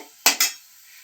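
A spoon stirring turmeric into food in a cooking pot gives two quick metallic clinks close together, followed by near silence.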